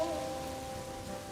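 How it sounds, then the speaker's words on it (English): Rain falls on an outdoor mourning gathering for a family grieving a soldier, a soft, continuous patter with a faint steady hum beneath it. "Even it's raining, you are here."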